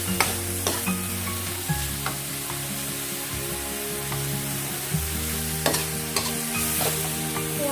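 Minced pork being stir-fried in a pan for northern Thai larb, with a steady close sizzle and scraping stirring strokes under sustained background music.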